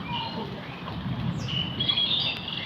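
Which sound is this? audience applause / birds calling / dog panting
birds calling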